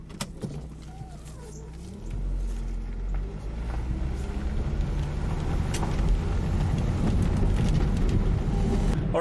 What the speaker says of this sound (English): we are on the road, we are driving